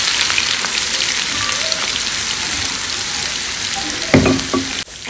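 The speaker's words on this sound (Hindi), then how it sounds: "मैंने एक छोटे साइज़ की प्याज ली थी, इसको मैंने बहुत बारीक काटा है। मैं वो गर्म घी के अंदर डाल रही हूँ।" Finely chopped onion sizzles in hot ghee for daal tadka, a steady close crackling fry with a few louder spits and stirring clatter near the end.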